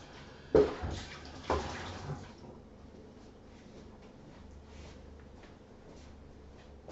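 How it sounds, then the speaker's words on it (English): Water splashes and swirls in a bucket being rinsed during clay processing, two sharp sloshing bursts followed by a steady low run of water, close and moderately loud. "And then I'm going to rinse out my"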